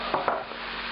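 Pork pieces for a French-style pork daube browning in a hot pan, giving a short burst of steady sizzle with a couple of quick clunks as the meat goes in near the start.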